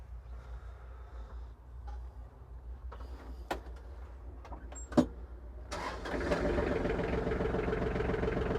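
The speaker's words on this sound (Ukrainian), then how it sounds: "Зараз ми тракторець заведемо і послухаємо, як він працює." A low engine idles quietly amid a few clicks and knocks, then a Kubota GL32 tractor engine cranks and catches, running loudly and steadily up close.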